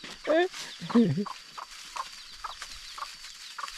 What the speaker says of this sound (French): Le poussin est revenu.